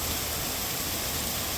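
Heavy downpour drumming on a road in Thrissur during tarring work, a steady dense hiss of rain filling the whole clip with no voices.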